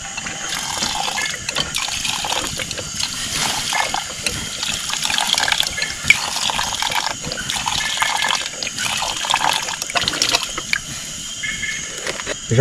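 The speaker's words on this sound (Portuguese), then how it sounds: "Vou ter que colocar um pouquinho mais de água" Water poured into a pot of pasta at a wild riverside campsite, a continuous close gurgling, splashing fill that runs steadily for the whole stretch without talk.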